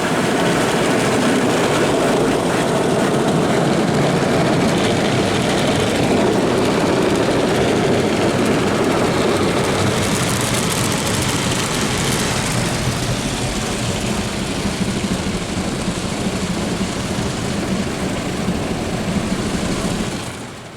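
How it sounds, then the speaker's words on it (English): A WashTec SoftCare2 Pro car wash runs its high-pressure wheel brush in a dense, loud, continuous spray-and-motor roar that holds steady for about twenty seconds, then tails off at the end. "There is some high pressure running on that wheel brush,"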